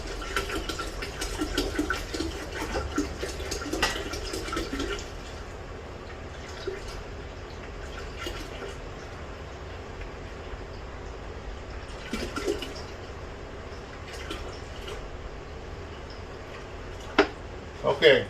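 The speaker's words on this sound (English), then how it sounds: "3 gallons of distilled water." A gallon jug of distilled water pours into a container, a rushing, splashing stream for the first few seconds, then quieter drips and handling noises.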